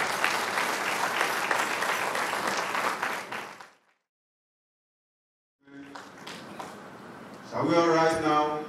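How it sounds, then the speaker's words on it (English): An inaugural lecture audience gives a lecturer a dense round of applause that fades out, followed by a short silence and then a voice speaking over some clatter. "Can we give her a round of applause?"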